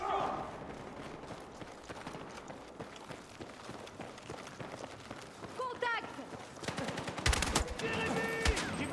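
Battlefield 6 video game gunfire, with bursts of shots and rapid automatic fire rising over a busy battle mix toward the end, under a continuous loud game soundscape.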